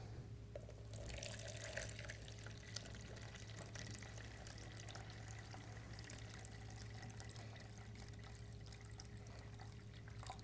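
Water poured into a container on a scale while mixing a room spray, a quiet, continuous trickling stream running steadily for about ten seconds with no talking.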